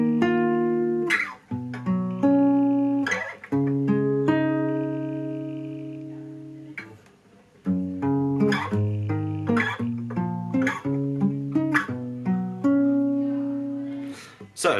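A solo guitar plays the final section of a song, with clean, close chords and picked notes, short ringing phrases separated by brief pauses.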